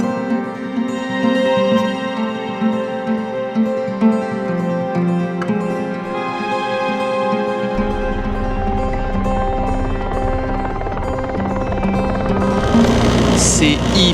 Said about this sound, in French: avec le bruit de l'avion